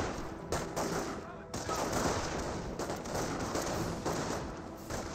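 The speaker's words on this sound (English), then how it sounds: "Wehrmacht snipers now engaging." Dense, sustained rifle and machine-gun fire from Wehrmacht snipers and infantry in Company of Heroes, bursts overlapping loudly with only brief gaps.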